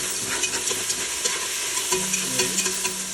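Garlic and onion sautéing in hot oil in a pan, a steady close sizzle with light scraping and stirring clinks throughout, no voices.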